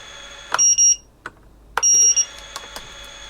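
A Taranis X9D radio transmitter sounds its low-voltage alarm, two bursts of rapid high-pitched electronic beeps with brief pauses between them, close and clear, followed by a few faint clicks.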